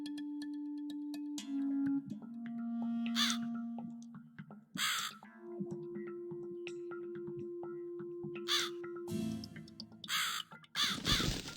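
Crow caws from the video game The Cat Lady sound in several harsh bursts over a sustained eerie electronic drone and tonal game ambience, the calls loud and fairly close, the last ones clustered near the end.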